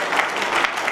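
Audience applause at a Lions Club installation ceremony, a brief, dense patter of many hands clapping at once.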